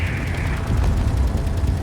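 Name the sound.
railgun hit and explosions in video game Space Engineers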